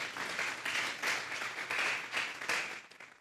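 A church congregation claps together in a loud burst of applause that swells in waves and then fades out at the end.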